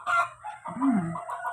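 A chicken clucks close by, then a rooster crows loudly, with more clucking following; no talking.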